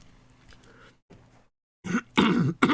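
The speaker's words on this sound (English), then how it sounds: "I do apologise for my tickly cough," Someone with a tickly cough and a scratchy throat caused by medication makes quiet rustling sounds, then clears their throat in a few loud, harsh bursts close to the microphone.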